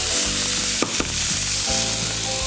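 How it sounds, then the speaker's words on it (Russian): Vegetables with onion and tomato frying in a pan, a steady close sizzle with a couple of brief stirring knocks, no talking. "Итак, овощи у нас обжариваются."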